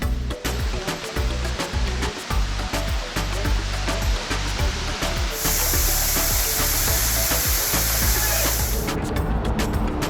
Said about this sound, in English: And of course, a cold waterfall or two.